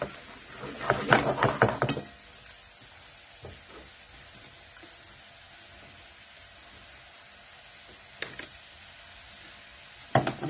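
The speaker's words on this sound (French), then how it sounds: "نقلي le champignon de Paris avec du sel, je laisse cuire un peu" Paris mushrooms with salt frying in a pan: a burst of scraping and sizzling stirring at the start, then quiet low crackle with occasional knocks of a utensil against the pan.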